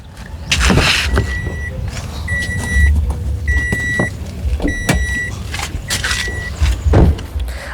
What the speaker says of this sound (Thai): เดี๋ยวผมเปิดด้านท้ายดูก่อนนะครับ